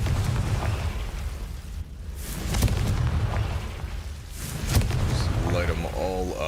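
Confringo fire spell blasts burst in Hogwarts Legacy: two pairs of sharp, close explosions with crackling tails, separated by a brief lull, over a rumbling game background.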